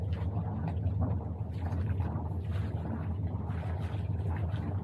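A boat's motor idles in a low, steady drone, faint and continuous, with a soft rumble beneath and no talking.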